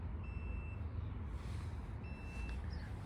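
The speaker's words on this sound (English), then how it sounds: "It causes the collar to emit a high-pitched beep." Remote-training e-collar giving high-pitched beeps: two thin steady tones, each about half a second long, heard faintly over a low background rumble.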